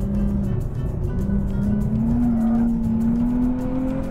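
Nissan Z NISMO pulling hard out of a hairpin in third gear, its engine note a loud, steady drone rising gradually in pitch as it accelerates, close and continuous with no talk.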